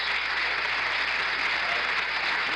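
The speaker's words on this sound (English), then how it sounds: "receiving a rounding applause" An audience in the White House East Room applauds in 1973, a continuous, even roar of clapping heard at a steady level, slightly distant and without pauses.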